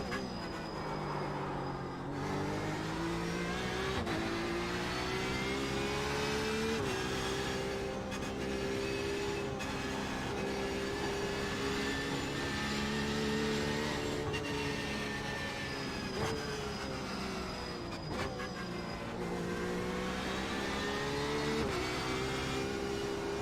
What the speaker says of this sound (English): I can hear some tire noises if I don't use the throttle much.